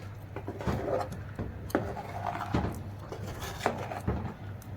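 Potatoes and tomato sauce with added water are stirred in a metal baking tray on the stove, giving repeated scraping, rubbing knocks of a utensil against the pan at close range with no talk.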